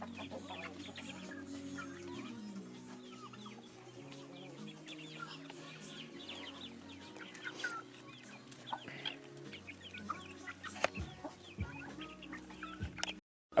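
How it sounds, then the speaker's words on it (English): Chickens clucking around a village in Mberengwa, Zimbabwe, several birds calling on and off at moderate distance over a low steady background hum, fairly faint overall. "Whole lot of turkeys and a whole lot of chickens out here."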